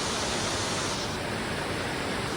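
Rushing water pours steadily from the indoor waterfall in the Gaylord Opryland atrium, a dense, even roar heard close up with no talk over it.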